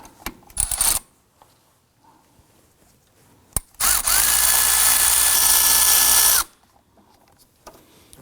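A cordless power tool with a 12mm socket whirs loose the serpentine belt tensioner on a 2005-2009 Subaru Legacy 2.5L H4, a loud steady high-pitched whine lasting several seconds, preceded by short bursts and a sharp metallic clink.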